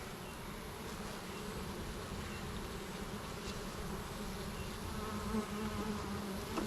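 Honey bees at an open hive drone in a steady, dense buzz that stays even and close throughout, with no voices.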